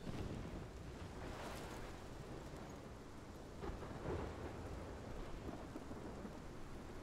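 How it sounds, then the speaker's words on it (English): A steady thunderstorm in the Life is Strange video game, with continuous heavy rain hiss and low rumbling thunder swelling a couple of times, dense and unbroken throughout with no voices. "This is my storm."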